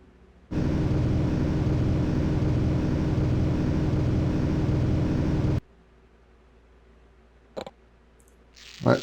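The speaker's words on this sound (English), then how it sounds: "Oh, loud car outside." A loud car passing outside, a steady roar that holds for about five seconds and then cuts off, followed by a couple of brief clicks.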